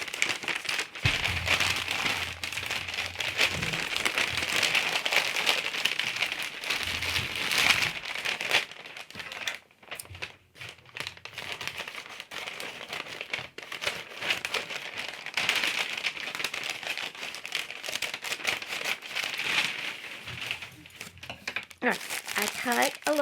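Packing paper is crumpled, rolled and folded by hand for decorating tags, giving a continuous close crinkling and rustling with brief pauses.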